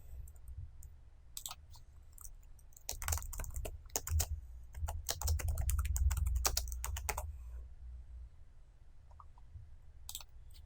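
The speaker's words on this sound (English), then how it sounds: "we type CTOR, tab twice" Computer keyboard typing while entering code, irregular bursts of close key clicks with short pauses, sitting over a low steady background hum, no voices.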